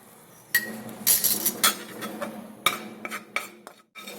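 Cornflour sautéed in melted butter in a pan for palak soup, with a utensil scraping and clinking against the pan in a series of sharp, irregular metallic knocks and stirs at close range, no voices.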